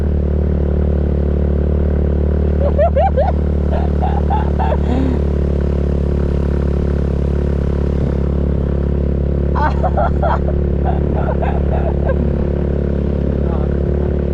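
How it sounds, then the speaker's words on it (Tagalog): A small scooter engine drones steadily and laboriously at low pitch while straining uphill in Quezon, Palawan, with bursts of clattering and rattling noises breaking in twice. "Hirap yung scooter ko, dito palang hirap"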